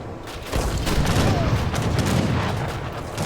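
Massed gunfire from Ottoman Obus guns and Janissary musketeers in Age of Empires 3, a historical strategy battle: a dense, continuous crackle of overlapping shots with heavy booms, loud and sustained.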